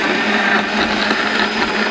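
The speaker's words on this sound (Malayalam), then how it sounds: "ഇത് നമ്മളിനി മിക്സി ഒന്ന് ജസ്റ്റ് ഒന്ന് ഓൺ ആക്കിയിട്ട് കുറച്ച് നേരം ഒന്ന് അടിക്കാൻ പോവാണ്" A kitchen mixer grinder whirs steadily while blending a homemade tender coconut shake. The loud, continuous motor drone carries a high blade whine, with no pauses and no voices.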